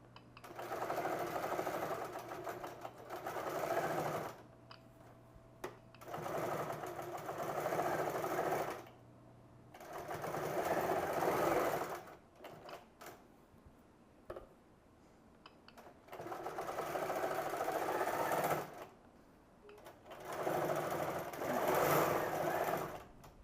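A sewing machine stitches a pocket on a baby jacket in five bursts of rapid, whirring stitching separated by short pauses, close and fairly quiet, no talk.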